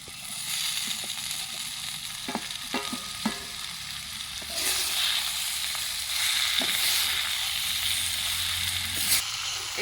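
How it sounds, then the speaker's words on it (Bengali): Fried mixed vegetables tipped into spices frying with ground coriander and cumin in a village kitchen, a steady sizzle with several spatula knocks and scrapes, then the frying swells louder after the vegetables go in. "এবার আমরা এর মধ্যে ভাজা সবজিগুলোকে দিয়ে দিচ্ছি"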